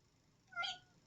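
A cat gives a single short, clear meow for attention indoors, rising and falling within about a quarter second, close to the listener against a quiet background.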